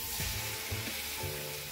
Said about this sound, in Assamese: এতিয়া এই শুকান মছলাখিনি পিয়াজ আদা ৰসুনৰ পেষ্টৰ লগত ভালকে ভাজি এতিয়া অলপ পানী মিলাই দিম